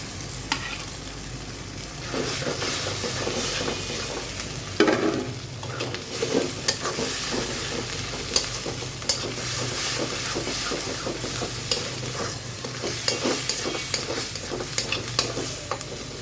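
Spices fry in a hot pan before beef brain goes in, making a steady close sizzle with frequent scraping stirs and a few louder clinks against the pan.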